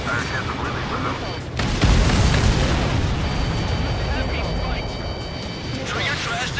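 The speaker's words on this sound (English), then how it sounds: "What was that explosion?" A loud, broad boom from Ace Combat 7: Skies Unknown during a desert sandstorm bombing run, part of a battle with missiles, rolling on under steady jet noise while radio voices talk over it.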